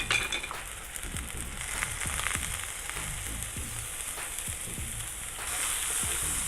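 Onions, garlic and ginger sauté in a hot pan with a steady sizzle throughout, broken by soft scrapes and taps as the pieces are stirred around, heard close up with no talking.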